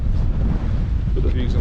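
Strong gale gusting across a steep mountain path on the Pen y Fan Horseshoe, buffeting the microphone with loud, continuous low-frequency wind roar throughout.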